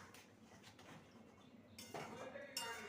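A lid clanks down twice onto a pan of malai cauliflower curry, two bright metallic knocks close together near the end, with faint kitchen background before them.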